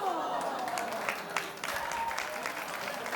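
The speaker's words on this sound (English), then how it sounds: "You don't have to clap if you don't want to." A TV talk show studio audience breaks into dense, sustained applause, with faint voices mixed into the steady clapping.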